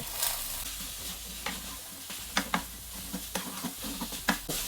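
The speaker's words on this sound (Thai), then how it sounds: "จากน้ำมันเดือด แล้วก็ ใส่กระเทียมลงไปก่อน เหลืองหอมเนาะก็หมูใส่ลงไปเลย" Garlic and pork sizzle and fry in hot oil in a pan, with a steady hiss under repeated scraping stir strokes and a few louder clanks of the utensil, fairly close and with no talking.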